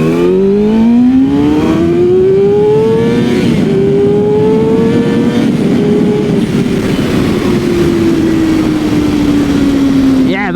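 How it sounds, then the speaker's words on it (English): A Kawasaki ZX6R sport bike pulls hard in first gear, its engine note rising steadily in a loud, close whine, then easing off and tailing down over about ten seconds. "Let's get a quick little pull in here. Get first gear going on the old"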